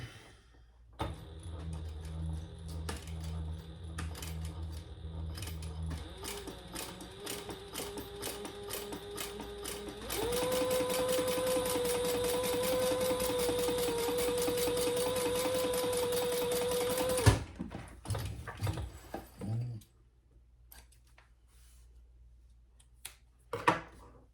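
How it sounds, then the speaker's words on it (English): A sewing machine stitches across the top of a fabric fold-and-go wallet slip pocket, starting with slow uneven pulses, then running in a steady, close whirring buzz for several seconds before stopping, followed by a few handling clicks and no talk. "we're just gonna stitch across the top because this also becomes a slip pocket"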